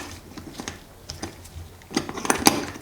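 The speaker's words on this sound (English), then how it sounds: "We can put the bracket back in place and tighten the remainder of the screws." Small metallic clicks and ratcheting taps ring out as screws are tightened on a Yamaha Virago 1100 carburetor bracket, an irregular close run that grows denser and louder near the end.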